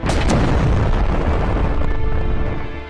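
Explosion of a self-destructing soldier in an anime battle scene, a loud booming blast with a sharp opening burst followed by a long rumbling roar that slowly fades.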